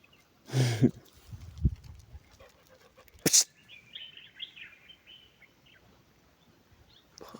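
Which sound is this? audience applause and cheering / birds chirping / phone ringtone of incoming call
birds chirping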